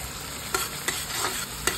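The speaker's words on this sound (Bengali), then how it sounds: "পেঁয়াজ দিয়ে দিয়েছি, একটু ভাজা ভাজা করে নেবো।" Onions sizzle steadily in a hot pan, with a few light stirring clicks breaking through the hiss.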